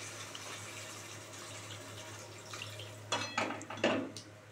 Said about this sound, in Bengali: এই যে এবার জল দিয়ে দিলাম।